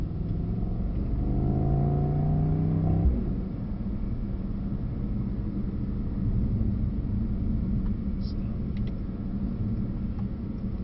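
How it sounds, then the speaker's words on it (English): A Mercedes SL63 4-litre V8 sports car engine revs and roars loudly for a few seconds with a rising whine, then settles into a steady, deep rumble. "it makes a really good noise, that 4-litre V8"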